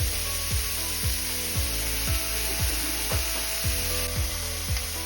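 Seasoned burger patties fry in a hot pan with a steady, dense sizzle that continues unbroken throughout, with a regular repeating thump in the background.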